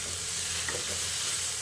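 Potatoes for aloo dum are stirred in a pan, with a soft scraping faintly audible over a constant gentle sizzle.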